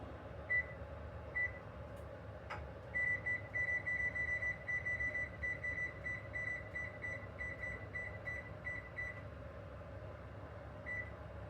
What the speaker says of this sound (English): I'm going to set a timer for 30 minutes.